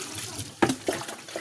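Water runs and splashes while tilapia is washed in a basin, with brief louder splashes over a steady wet hiss.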